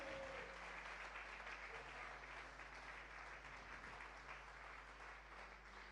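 A church congregation claps steadily and continuously, a dense wash of applause filling the space with no talking over it.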